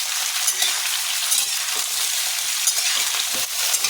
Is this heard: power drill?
no